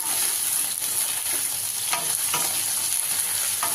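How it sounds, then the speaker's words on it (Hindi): Brinjal and potato pieces stir-fry over medium-high heat, a dense continuous sizzle with the rhythmic scrape of a spatula turning them in the pan, no voices. "तो यहाँ पे बैंगन और आलू को चलाते हुए अच्छे से फ्राई कर लेंगे।"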